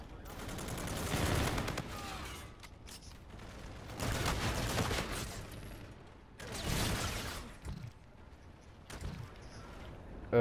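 Heavy pump-shotgun blasts in a video game firefight, sounding in several loud, rough bursts that are separated by quieter gaps, with a voice coming through faintly now and then.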